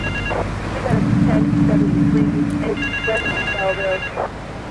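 A telephone ringing in the GTA 3 video game, electronic ring tones repeating in short bursts over a low steady background hum, with a brief buzzing tone in the middle.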